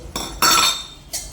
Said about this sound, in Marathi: आता मी कढई ठेवलेली आहे